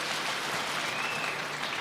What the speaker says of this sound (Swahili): Wapige makofi.